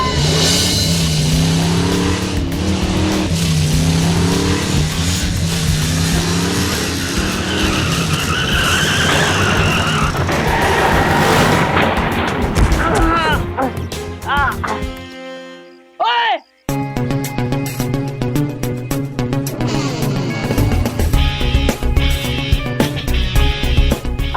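A car's tyres skid and squeal loudly for several seconds before it crashes into a scooter, with a brief drop to silence, then clattering and voices during a comedic street scene.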